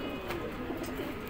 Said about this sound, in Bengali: দাদার পাকিস্তানি কবুতর কালেকশনটা অনেক ফার্স্ট ক্লাস